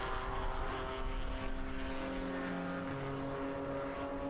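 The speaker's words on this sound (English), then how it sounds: "that silver and blue 1963 Jaguar of Scott Hawley going away" A silver and blue 1963 Jaguar race car at a vintage road-racing event drives away, its engine drone holding a steady pitch before dropping lower as it recedes, with a faint wash of other track noise.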